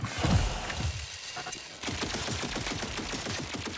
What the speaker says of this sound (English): What is shooting me? I can't see it.